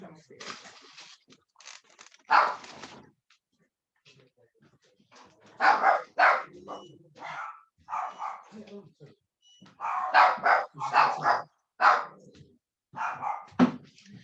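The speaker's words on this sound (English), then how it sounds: "You hear my puppies in the background." Small dogs bark in short bursts in the background, with people talking over much of it in a room.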